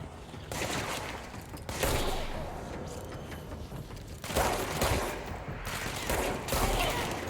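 Grenades explode in a video game firefight: several loud, broadband blasts burst out at uneven intervals over a continuous rumbling din of gunfire and battle noise.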